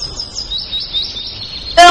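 Cartoon birds in an animated film about homeless weaver birds, with a thin high chirp running faintly through the clip and a sharp, louder tweet bursting in right at the end.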